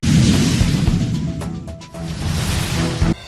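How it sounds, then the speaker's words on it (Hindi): Firecrackers burst at a celebration crowd gathered in a town square in Neemuch, a dense loud wash of crackling pops and sharp bangs, continuous throughout with a few distinct cracks standing out. "इतने पटाखे फोड़े जा रहे हैं"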